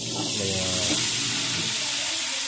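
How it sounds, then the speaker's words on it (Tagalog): Milkfish (bangus) frying in a pan, a loud, steady sizzle with hissing steam throughout, while a voice talks briefly over the start. "Ganito ako magprito ng bangos."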